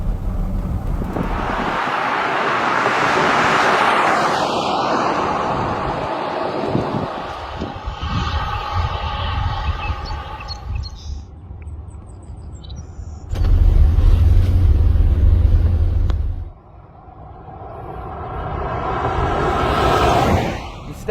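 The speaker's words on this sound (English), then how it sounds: "Step on it and the car gets up and goes." A 1959 car with a big 390 V8 engine of roughly 325 horsepower, restored, accelerating on the road: a loud, sustained engine roar that swells and surges, with wind noise and a voice talking over parts of it.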